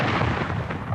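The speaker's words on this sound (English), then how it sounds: "voiced in the thunder of these cannon" One heavy boom of a cannon firing at Fort Sumter, a loud broadband blast that fills the whole short moment and fades slightly, with no voices.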